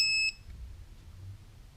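An AC voltage tester pen gives one short electronic beep as its power button is clicked, then a low quiet hum follows.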